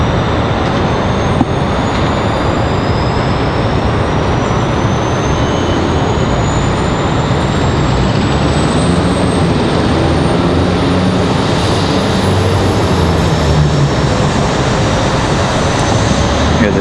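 An American Eagle Embraer E175 jet rumbles steadily on the runway, a loud broadband engine roar with a rising whine that holds throughout, no voices over it.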